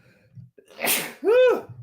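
A single sharp sneeze, a quick breathy intake followed by a loud, voiced burst, heard up close.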